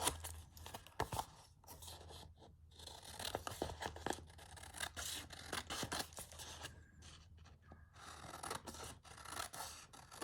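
Scissors trim small paper bits for a Christmas craft project, producing soft repeated snips and rustling paper handling at close range, quiet and irregular throughout with no talking.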